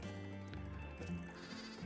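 Goats bleat in the farming game Vintage Story, with several drawn-out, wavering calls following one another. They are quiet and close, with no talk over them.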